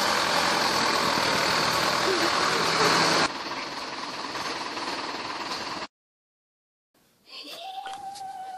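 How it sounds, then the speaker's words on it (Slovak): Tractor climbing uphill on a village farm, a steady loud engine drone that drops slightly after three seconds, cuts out near six seconds, then returns more faintly with a tonal whine. "práve ide hore traktor"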